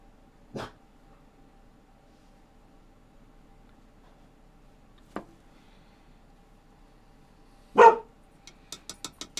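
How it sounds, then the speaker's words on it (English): A dog barks indoors, at some distance, as a few separate single barks spread across several quiet seconds, then a quick run of short yips at the end. "Oh, there goes the dog."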